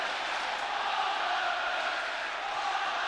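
Tottenham supporters roar in the stadium after a goal at a UEFA Cup final against Anderlecht, a steady, distant wall of crowd cheering and chanting with no break.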